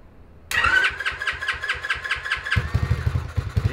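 A Honda ATC 70 three-wheeler fitted with a swapped-in 140cc engine is quiet at first, then catches abruptly and settles into a choppy, pulsing idle close to the microphone.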